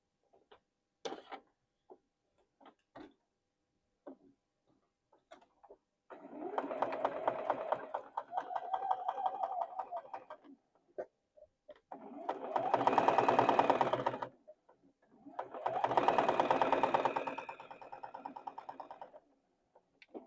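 A sewing machine stitches fabric pieces together while a yellow piece is readied next, running in three bursts of steady rapid whirring separated by pauses, with faint clicks and handling noises in between.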